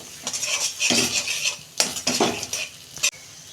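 Pointed gourd mash being stirred in a pan: close scraping and clinking of a metal spoon against the pan in irregular bursts over a faint sizzle, with no voices.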